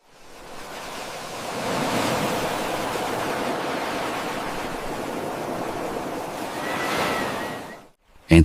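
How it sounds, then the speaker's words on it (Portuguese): Ocean waves break in a broad, roaring wash that swells in and then surges again before falling away near the end, with no voices. "escutando em silêncio o bater das ondas"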